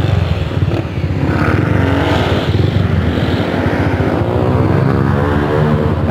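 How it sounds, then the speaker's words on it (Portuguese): A vehicle engine revs nearby, a loud, continuous rumbling roar that holds steady for about six seconds with no voices over it. "Carinha da vizinha ali acelerou atrás"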